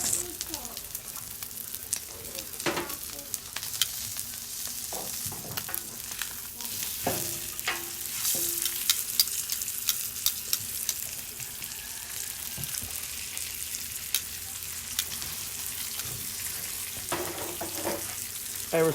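A tomahawk ribeye steak sizzles on a Blackstone griddle at about 450 degrees, a steady close crackle with occasional scraping and spatula clicks, brief voices faint in the background.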